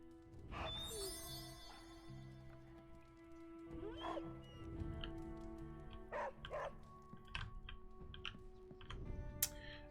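Charlie, a dog in Marvel's Midnight Suns, gives a few short barks at intervals over a steady musical drone from the game, with small clicks and taps between them.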